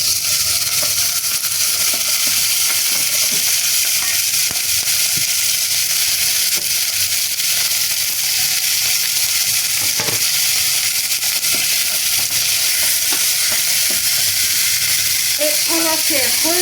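Veal browns in olive oil in a hot pan for a blanquette, a steady loud sizzle filling the whole stretch with occasional small taps and crackles, and a voice speaking briefly near the end.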